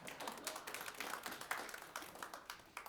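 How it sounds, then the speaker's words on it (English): Church congregation applauding during a Sunday Mass homily, a quiet, steady patter of many hands clapping with dense irregular claps, no voices over it. "Give them a round of applause."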